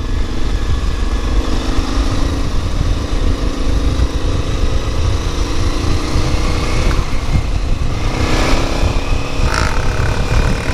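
A motorcycle rides down an abandoned bobsleigh track in Sarajevo, its engine droning loud and close throughout with shifting pitch as it revs.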